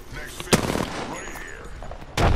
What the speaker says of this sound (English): There's a motherfucker behind us with a goddamn sniper rifle